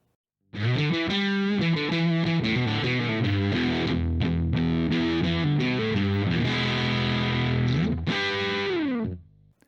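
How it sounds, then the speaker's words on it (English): Electric guitar, a Fender Baja Telecaster through the Nux MG-400 reverb models, playing chords and single notes drenched in lush reverb, the tails ringing out spaciously before the final chord fades. "I'm gonna play through all of the included reverb models"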